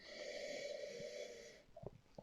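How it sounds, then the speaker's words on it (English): Someone sniffs a barrel-aged vanilla beer, a close, drawn-out nasal inhale followed by a couple of short soft breaths and small mouth sounds, with no talking. "Let me have a little sniff and I'll try this beer."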